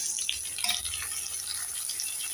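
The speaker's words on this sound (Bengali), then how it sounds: "এবার দিয়ে দেব কেটে রাখা আলু," Cut potatoes go into a pan of onions fried until reddish, giving a steady, close sizzling hiss with a few brief crackles and no talking.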